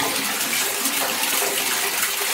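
Water gushes from a tap into a washing basin filling for a laundry rinse, a loud, close, continuous splashing pour with no talk.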